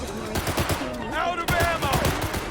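Gunfire exchange in the video game Cyberpunk 2077: rapid automatic shots rattle in a steady stream, loud and close. Voices talk over the shooting.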